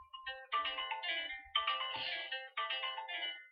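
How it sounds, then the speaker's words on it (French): A telephone ringtone plays a melodic electronic tune in three repeated bursts, fairly clear and alone with no talking over it. "on va attendre que le téléphone s'arrête"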